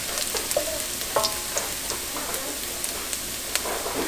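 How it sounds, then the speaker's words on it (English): Garlic sizzling in oil in a pan for Filipino garlic fried rice, a steady soft crackle with scattered small pops and occasional stirring scrapes, close and fairly quiet. "we're gonna get that oil fragrant with the garlic"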